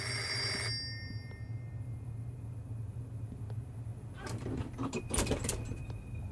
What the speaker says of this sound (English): Oh, is that a phone ringing?